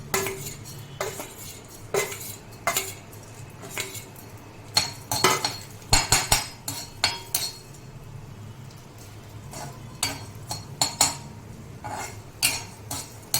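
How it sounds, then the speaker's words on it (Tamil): Coriander seeds are dry roasted in a pan for a village-style chicken curry, with a metal spoon scraping and clinking against the pan in irregular bursts over a faint background. "தனியாவை போட்டு வறுக்க வேண்டும்"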